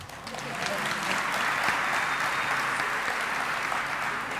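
An audience at an academic year opening address bursts into applause, the clapping swelling within a second and holding as a dense, steady roar of hands from a large crowd.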